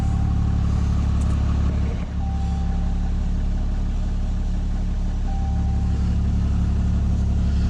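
A 6.7 Cummins diesel engine idling just after starting, with a steady low rumble close by and a faint whine coming and going above it, and no talk over the sound.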